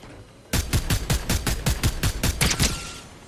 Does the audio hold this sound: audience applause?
no